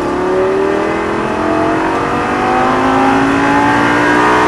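A Lamborghini Gallardo LP 560 accelerates at full throttle on a track, its engine loud and close with a rising, climbing whine as the revs build steadily throughout.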